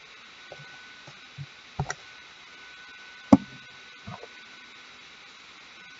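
Scissors snip apart a glittery wired craft embellishment, a few sharp isolated clicks and cuts scattered over quiet background, close and fairly faint.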